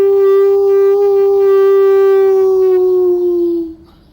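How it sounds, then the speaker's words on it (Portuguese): A dog howls in one long, loud, sustained wail, holding a steady pitch before trailing off and fading near the end, with no talking. "eu vi um cachorro uivando"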